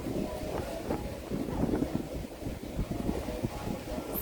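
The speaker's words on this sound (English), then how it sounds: "It's very windy." Strong wind blowing outdoors, a constant low rushing buffet across the microphone with gusty swells, fairly loud and steady throughout with no speech.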